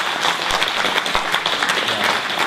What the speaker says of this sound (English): Some of you are clapping.